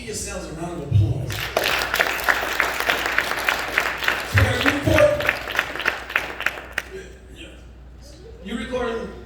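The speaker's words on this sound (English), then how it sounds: "Come on, give yourselves a round of applause." A small group claps for themselves after a performance, a burst of brisk applause rising after a moment of talk, holding steady for several seconds, then fading out as voices return.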